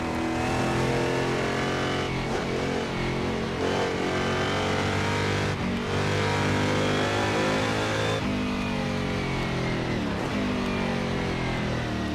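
Historic sportscar racing engines in the Assetto Corsa sim at Riverside, a Barth among them, roaring loud and steady for the whole stretch, with rising and falling revs and shifting harmonic tones as cars accelerate and brake.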